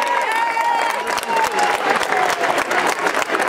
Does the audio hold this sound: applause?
yes